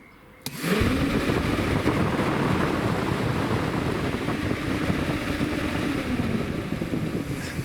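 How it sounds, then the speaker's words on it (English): A Citroen Dispatch air-conditioning cooling fan is switched on and runs up to a faster, steady whoosh. The roar starts abruptly, stays loud and close, and carries a faint rising hum. No one speaks. "You notice that that fan spun faster."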